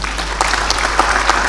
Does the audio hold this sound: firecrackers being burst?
no